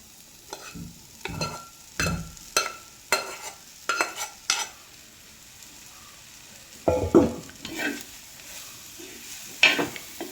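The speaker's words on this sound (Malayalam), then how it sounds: "നമുക്കപ്പോൾ വേവിച്ച് വെച്ച കക്ക ഇട്ട് കൊടുക്കാം" Cooked clams are tipped into a pan and stirred, producing a series of sharp scraping and clattering strokes over a soft sizzle, close and fairly loud, with a pause midway.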